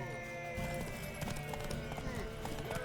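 Horse hooves clip-clop in a steady rhythm at moderate volume in The Witcher 3: Wild Hunt, with a faint whinny and game ambience behind them.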